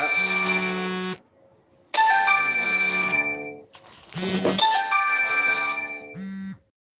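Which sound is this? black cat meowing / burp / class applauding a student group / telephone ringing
telephone ringing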